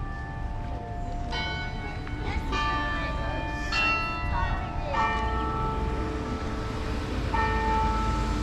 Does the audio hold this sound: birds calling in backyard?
no